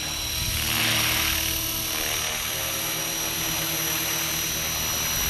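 A Walkera 450 radio-controlled helicopter flies with a loud, continuous whine and rotor buzz, steady and close throughout with a slight swell near the start.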